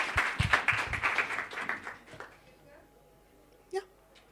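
An audience at an Ignite talks event applauds as a speaker takes the stage, a burst of clapping that fades out within two seconds, followed by near silence and a brief sound near the end.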